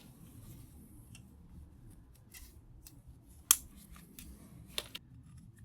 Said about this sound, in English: These are my old side cutters.